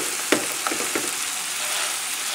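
Pork loin fries in a pan with a steady, bright sizzle, and a few soft clicks and stirring scrapes sound near at hand.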